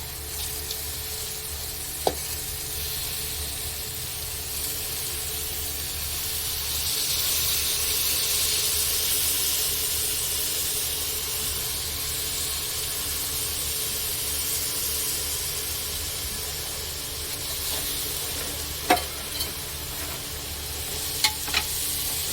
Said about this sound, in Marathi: तांदूळ पण थोडे 1 मिनिट परतून घ्यायचे आहेत। छान असे तांदूळ परतायचे आहेत।